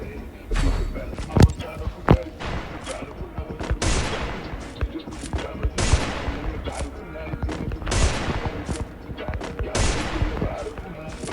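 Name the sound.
Desert Eagle pistol gunshots in a video game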